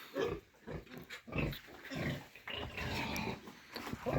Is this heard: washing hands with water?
no